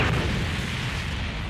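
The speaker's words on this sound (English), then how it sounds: "Why am I hearing explosions?" Explosion sound effect in a tense dramatic scene: a loud, sustained, rumbling blast that fills the whole moment without letting up, with no voices over it.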